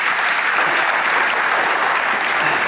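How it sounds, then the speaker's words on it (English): A large keynote audience at Microsoft Build 2023 gives a dense, steady round of applause that holds evenly throughout. "give Harrison a round of applause"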